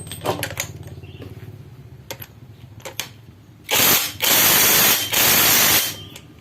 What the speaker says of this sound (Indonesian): baru kita kencengin